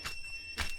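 A shrill cicada buzz in a forest rises in two short bursts a moment apart, fairly close, over a faint low rumble.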